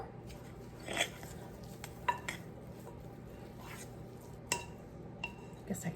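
A spatula folds about a cup of blueberries into stiff peach-berry buckle batter, giving soft, intermittent scrapes and a few faint clinks against the bowl in a quiet kitchen, with no one talking.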